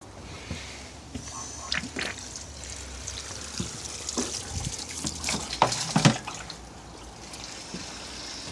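Water runs and trickles from a tap in a quiet room, with faint clinks and a few splashes.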